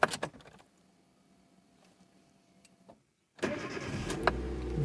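An LPG-converted car engine starting from cold: a quiet lull, then a sudden loud catch and steady idle close by, preceded by brief mechanical clicks.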